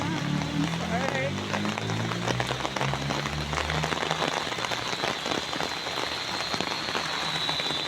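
Heavy rain pours steadily onto surfaces, a dense continuous wash with scattered drops, while people talk and exclaim over it.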